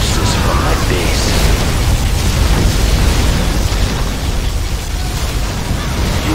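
A barracks blows up in the C&C Generals Zero Hour strategy game, giving a loud, dense roar of explosion and crumbling debris that holds steady for several seconds before easing slightly.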